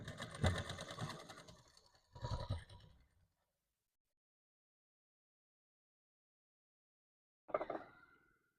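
An electric sewing machine stitches a katori blouse in two close, whirring bursts, then falls silent before a short final run.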